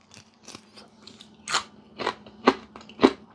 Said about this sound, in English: Sorry for the loud crunch.